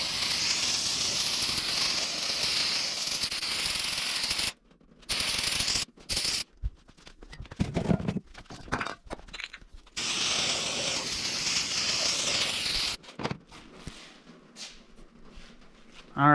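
A water spray rinses a bare LS engine block, loud steady hissing in long bursts broken by pauses filled with dripping, clanks and shuffling nearby.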